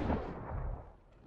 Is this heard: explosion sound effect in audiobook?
yes